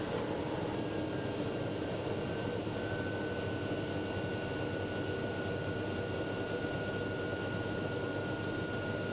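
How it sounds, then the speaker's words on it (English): A TBM850 turboprop taxis toward the runway, heard from inside as a constant, even engine drone and broadband rush with a faint steady whine running throughout. "we're going to continue our taxi to 27 right, the runway"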